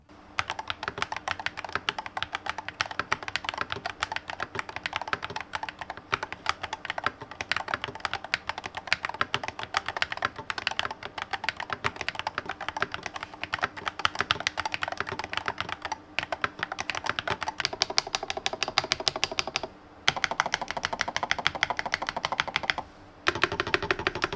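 Fast, continuous typing on a SARU KX69 Predator magnetic-switch keyboard, crisp clacks close up, with two short pauses near the end.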